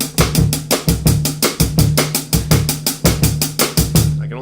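A voice imitates the mechanical bossa nova rhythm of a Casio keyboard preset, a loud, steady repeating pattern of clipped percussive beats sounding alone without talk.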